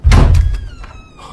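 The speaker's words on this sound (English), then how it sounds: "Then, doors creaked open." A door swings open with a heavy wooden thud followed by a thin, drawn-out creak that fades over about a second, close and fairly loud with no voices.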